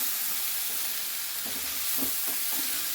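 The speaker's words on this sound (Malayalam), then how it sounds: "ഇനി നമ്മൾക്ക് വേണ്ടി ബീൻസും ക്യാരറ്റും കൂടെ മിക്സ് ചെയ്യാം" Beans and carrots being stirred as they fry in a pan for pulav, a steady close sizzle with soft scraping and clattering from the spoon, no voices.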